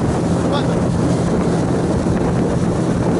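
A motorboat speeding across open sea, its steady engine drone and hull noise running continuously and loud, buffeted by heavy wind noise on the microphone throughout.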